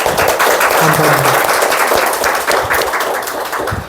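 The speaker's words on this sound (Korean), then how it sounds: "그분에게 박수 한번 주시죠" Audience applause fills a church hall, a dense steady wash of clapping throughout, with a brief spoken thank-you over it.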